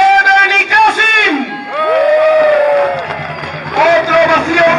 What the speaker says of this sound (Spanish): Otra ovación para ellos y ellas que van a hacer historia